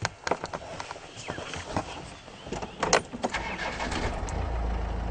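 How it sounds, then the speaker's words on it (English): A car engine runs while the car is turned around on a drive, with a low rumble rising toward the end, mixed with irregular clunks and knocks from the cabin. "Let me turn the car."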